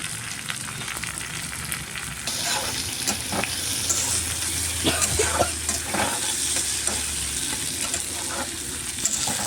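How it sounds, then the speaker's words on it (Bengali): Tomatoes with a pinch of salt frying in a pan, stirred steadily so they soften, with a continuous close sizzle and repeated scraping strokes of the spatula, no voices. "তিন 4 মিনিট এইভাবে ভালো করে নাড়িয়ে ছাড়িয়ে বাজিয়ে নিতে হবে, যতক্ষণ না টমেটোটা একটু নরম হয়ে গেছে।"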